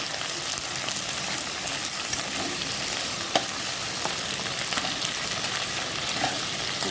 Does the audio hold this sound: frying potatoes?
yes